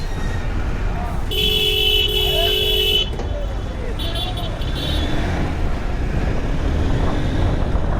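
Road traffic jam in Dhaka: a loud sustained car horn blares for a couple of seconds, followed by shorter honks, over a constant rumble of engines and road noise, with a person talking nearby.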